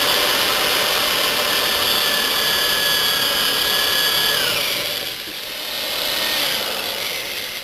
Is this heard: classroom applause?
no